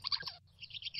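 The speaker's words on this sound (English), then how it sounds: "Let's have a look at the birdies." Small birds chirp in the King's Quest adventure game, a quick burst of bright tweets, a short pause, then a second run of higher twittering calls over a faint low hum.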